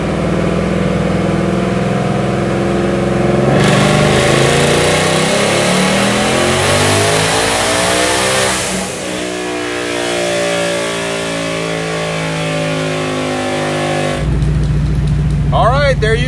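A Hellion twin-turbo Ford Mustang engine on a dyno pull, loud continuous roar climbing steadily in pitch as it revs, then dropping off and settling before rising again, a voice speaking over it.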